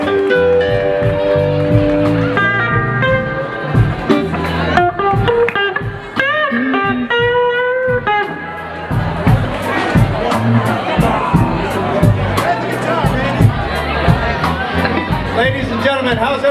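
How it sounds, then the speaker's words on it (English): A club audience at Buddy Guy's roars and cheers, whoops and shouts building into a sustained crowd noise with some claps, mixed with music and talk early on. "A big round of applause for Mr."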